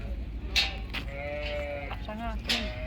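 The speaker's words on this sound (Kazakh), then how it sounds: "Mына кәдімгі қазақ қойлар." Kazakh and Melish sheep in a village flock bleating, several short wavering calls scattered over a few seconds against faint farmyard background noise.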